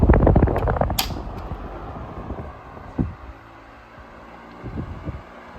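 A 1970s Sanyo 16-inch oscillating fan running at medium speed, a steady low whir with faint tonal hum, opening with louder handling clatter and a few soft knocks later.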